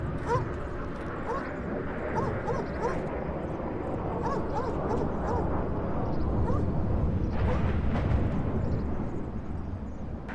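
Several dogs bark and yip repeatedly over a dense, rumbling storm-like background, the barking scattered and fairly close throughout.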